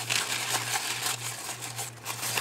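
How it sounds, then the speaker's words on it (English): Tissue paper being crumpled by hand for momigami, a dense, steady crinkling and rustling that fills the whole stretch, close and fairly loud, with a low constant hum beneath and no talking. "I like how the paper feels when you're done crumpling it."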